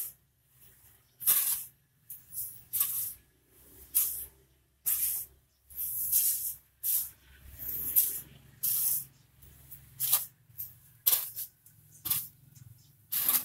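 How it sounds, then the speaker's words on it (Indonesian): Soil, rice husk and compost are mixed by hand for a potted fig planting medium, giving repeated dry scraping, rustling bursts at an irregular rhythm, close and moderately loud with no talk. "Kita aduk secara merata."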